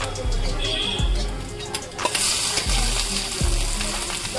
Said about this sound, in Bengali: এবার আমরা এর মধ্যে দিয়ে দেবো আগে থেকে সিদ্ধ করে রাখা মূলো শাক